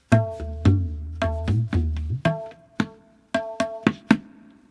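A tabla playing one cycle of the eight-beat Kaharva tala: resonant ringing strokes with deep bass bends, close and clear, spaced in an uneven pulse with no voices.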